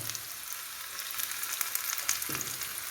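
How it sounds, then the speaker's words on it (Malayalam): Onions dropped into hot oil for a pumpkin and yam erissery give a soft, steady frying sizzle, with faint stirring sounds and no talking. "എണ്ണ അടുപ്പത്ത് വെച്ചു. നമുക്ക് ചൂടായിട്ടുണ്ട്. ഉള്ളി ഇട്ട് കൊടുക്കാം."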